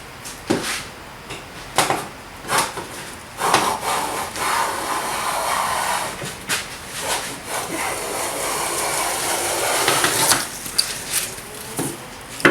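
A Buckeye jack plane shaves a wooden board in repeated strokes, each a close, rasping swish of blade on wood, separated by brief knocks and pauses.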